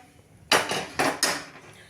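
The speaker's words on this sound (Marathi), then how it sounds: "गॅसवर तवा ठेवूया" An iron tawa griddle is set down on a gas stove with a few sharp metallic clanks: one knock, then two more in quick succession, each fading in a short ring.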